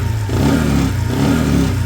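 Chinese 125cc motorcycle engine running just after starting, a loud close steady mid-pitched drone with a slight fluttering pulse.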